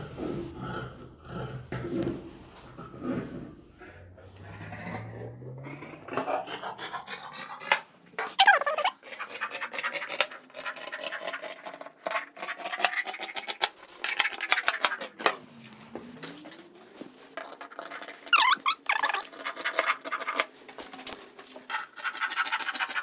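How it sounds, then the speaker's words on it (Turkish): Scissors or a blade cutting leather and fabric pieces for a dress, heard as close scratchy snipping and rasping strokes with metallic scraping, irregular and uneven, with quieter pauses between bursts and no talking. "çizmiş olduğum ön işarete göre de önü keseceğim"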